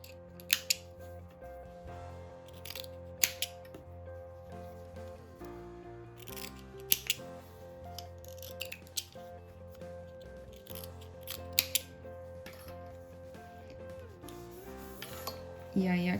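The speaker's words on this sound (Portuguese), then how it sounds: "Aí, eu posso cortar aqui esse biquinho pra a gente desvirar depois." Scissors snip through sewn fabric while a bow holder is being made. Several sharp, close cuts come in irregular bursts over a quiet background, with faint talking now and then.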